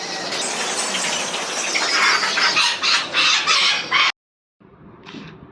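Live country chickens at a chicken shop, loud agitated clucking and squawking with wing flapping, then a brief gap and a fainter final cluck.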